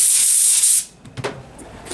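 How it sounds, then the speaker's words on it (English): Carburetor cleaner sprays through the jet holes of a Dellorto carburetor from a Vortex Mini Rok kart engine, a loud, close, steady hiss lasting under a second before cutting off to faint handling clicks. "the carb cleaner, you can see, will spray out of these holes"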